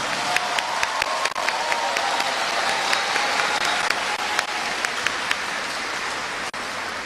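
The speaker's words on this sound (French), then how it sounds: "applaudissons-les" A large crowd at a graduation ceremony for nearly four hundred graduates breaks into sustained applause, with thick, rain-like clapping from many hands at a steady, loud level and a few sharper individual claps standing out.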